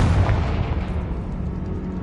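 A Bombarda or Confringo spell explosion in Hogwarts Legacy on PS5, one loud, close, deep blast right at the start that rumbles and slowly fades over two seconds, with no talking.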